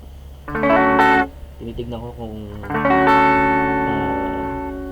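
An electric guitar plays through an amp preset built around a super reverb IR, with sustained chords that ring out and slowly decay, while someone talks briefly between the notes.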